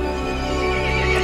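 A horse in the video game Resident Evil 8 neighs loudly in a sustained, harmonic whinny lasting just over a second, with no talking.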